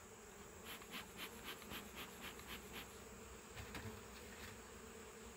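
Honey bees buzz around a hive, a faint layered drone with several louder pulses as individual bees pass near the microphone.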